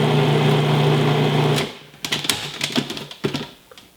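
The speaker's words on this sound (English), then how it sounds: "we're going to pulse this till it looks like coarse cornmeal" A food processor pulses tart dough with butter toward a coarse-cornmeal texture: a loud, steady motor whir that cuts off sharply, followed by a scatter of clattering knocks and short bursts as the machine settles.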